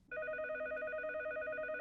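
A telephone rings in an anime scene: a bright, steady electronic tone starts abruptly and holds evenly, fairly quiet and alone without speech.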